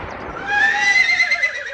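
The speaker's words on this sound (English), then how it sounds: "Well, this is an old horse." A horse sound effect from an Abbott & Costello radio comedy sketch gives a loud, close neigh that rises into a shrill whinny and wavers down over about two seconds, with no talk over it.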